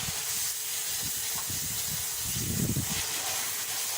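Marinated chicken for chicken malai curry sizzles in a pan after being added to fried onions: a continuous loud hiss with low, bubbling crackles, swelling briefly near the end.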